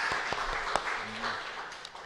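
A church congregation applauding during a worship service, heard as a moderate, fairly soft spread of clapping with a few sharper claps early on, while a low tonal hum sits underneath.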